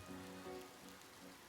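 Rain falls in the video game Ova Magica as a very faint, even patter and hiss. It holds steady through the short stretch, with no talk over it.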